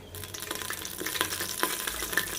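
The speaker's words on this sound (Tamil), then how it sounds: "எண்ணெய் ஊற்றிருக்கோம் எண்ணெய் காயட்டும் ஆறு ஏலக்காய் எட்டு கிராம்பு பட்டை ரெண்டு மூணு துண்டு பிரியாணி இலை போட்டுக்கலாம்" Cardamom, cloves, cinnamon and bay leaf frying in hot oil for chicken biryani, a close, busy crackle and sizzle with sharp pops scattered throughout and no talking.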